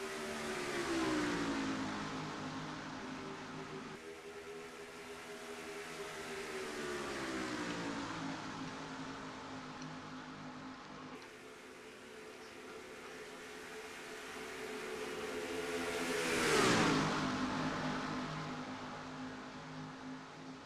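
Stock race cars roar around the track at Daytona in a continuous layered engine drone, several cars running together, with one car sweeping past closer and louder near the end.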